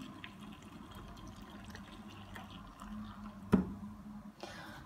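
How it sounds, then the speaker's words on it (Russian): Hot marinade poured into a glass jar of spicy peppers being preserved for winter: a faint, steady liquid trickle under low room noise, with one brief clink near the end. "Горячим маринадом заливаем банку"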